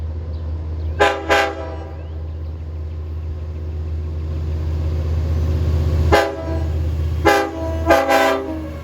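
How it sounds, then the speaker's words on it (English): A DE30AC locomotive, number 400, on a Montauk summer train gives two short horn toots, then after a pause three more quick blasts, all loud and near over the steady low rumble of the engine. "friendly toot from the engineer there."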